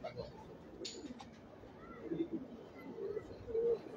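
A pigeon gives a few soft, low coos, faint and somewhat distant, under men chatting nearby.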